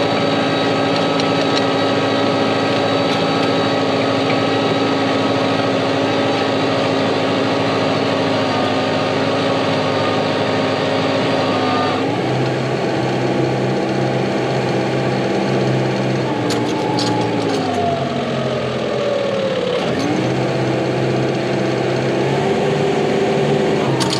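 Tractor engine labouring steadily while pulling a 16-foot-wide drag through soft dirt, a loud continuous drone that drops in pitch and shifts as the load grows heavier, with wheel spin near the end.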